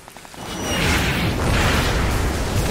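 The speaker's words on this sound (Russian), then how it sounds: "По звуку точно град." Grad rocket launcher explosions in Splinter Cell Blacklist: a deep, rolling blast swells after a moment of quiet and sustains as a loud, rumbling roar with a broad rushing wash.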